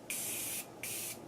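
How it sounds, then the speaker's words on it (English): Two quick, crisp hissing bursts of Morphe Prep and Set makeup setting spray, each lasting about half a second with a brief pause between, close and clear. "I'm just gonna set my makeup with the Morphe Prep and Set Spray"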